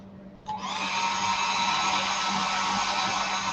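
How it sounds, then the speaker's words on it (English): A hairdryer switches on after a short pause and runs steadily with a loud, even whoosh close to the microphone. "grabbing my stuck hairdryer. I'm going to make a bit of noise, so hang in there."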